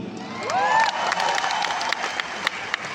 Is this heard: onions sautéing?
no